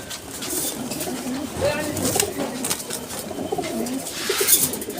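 Pigeons coo in soft repeated throaty bursts among cages at the Saruliya pigeon market, with a buyer and seller talking and a busy crowd murmuring around them.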